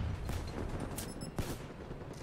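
Video game gunfire from a sniper rifle in Black Ops 3 multiplayer, a few sharp cracks and bursts of shots over continuous rumbling battle noise.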